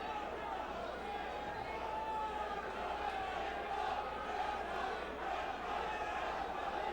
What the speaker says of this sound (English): Crowd starting to chant, Shamrock, Shamrock.